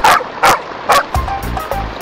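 A dog barks repeatedly, several sharp yips in quick succession, followed by softer whimpering sounds, close and clear.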